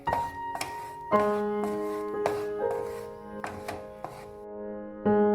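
Thick mango pulp is stirred in a pan over medium heat, the utensil knocking the metal again and again with irregular, ringing clanks that decay slowly between strokes, heard alone at close range.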